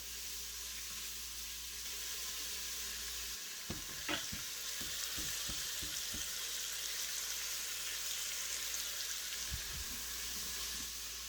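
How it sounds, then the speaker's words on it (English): Bacon sizzles quietly in a pan, releasing its fat in a soft, steady crackling hiss, with a few brief utensil taps and scrapes partway through. "we got some of the fat coming out of the bacon"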